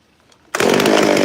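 A chainsaw at a log station suddenly roars to life after a near-silent moment, settling into a loud, steady, buzzing drone up close.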